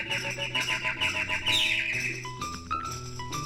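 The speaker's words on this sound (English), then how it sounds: "baby birds just sat and chittered and chattered to each other" Baby birds chittering and chattering, a dense run of quick high chirps and tweets over a musical backing, fairly loud and close, with no talk.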